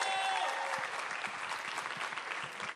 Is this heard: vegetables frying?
no